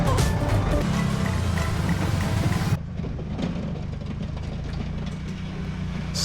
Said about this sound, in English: As you can see, I'm scraping the snow here on the pond.